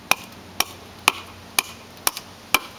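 A heavy blade chops into wood in six sharp, evenly spaced strikes about half a second apart, each a crisp close thunk with a short ringing tail, alone without talk.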